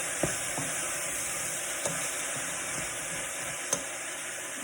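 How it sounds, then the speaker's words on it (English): Spinach and vegetables for minestrone soup are stirred in a pot: a steady soft sizzle and bubbling runs throughout, broken by a few sharp scrapes of the spoon against the pot. "Now, let's give that a bit of a stir again."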